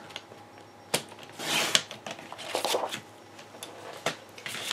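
Patterned paper for a handmade card is trimmed on a paper trimmer. A soft sliding swipe of the blade is followed by scattered light clicks and paper rustles, close and fairly quiet.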